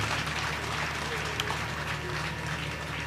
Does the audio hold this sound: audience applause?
yes